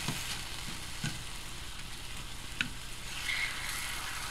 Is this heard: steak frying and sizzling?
yes